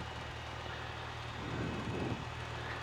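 The engine of a Rockwell Lark 100/180 Aero Commander light aircraft runs steadily after a few minutes of operation, a constant droning hum with no voices over it.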